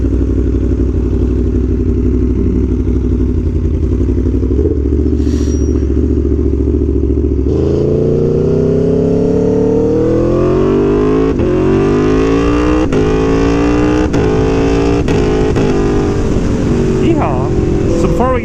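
An Aprilia Tuono V4 1100 engine at speed, close and loud, rising through rev sweeps and gear changes, with heavy wind rush on the microphone.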